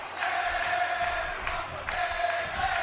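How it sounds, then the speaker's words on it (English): A WWE 2K17 wrestling video game arena crowd roars steadily, with a dense sustained cheer and a few swells rising and falling throughout, loud and continuous. "The crowd firmly behind the team of Bayley and Becky Lynch here"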